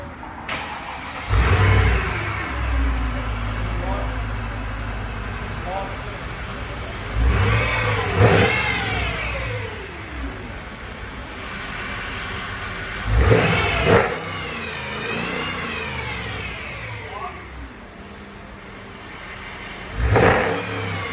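Mercedes-Benz CLS with a straight-pipe exhaust, the engine idling with a deep rumble between several sharp, loud revs that rise and fall back, close by and with no talk.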